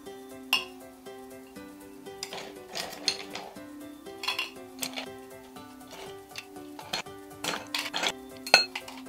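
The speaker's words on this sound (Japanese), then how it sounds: "次はゼリーの上から氷をたっぷり入れます。" Ice cubes clink and rattle as they are dropped generously into a heat-resistant glass over jelly, a series of bright, sharp glassy knocks at uneven intervals against a quiet background.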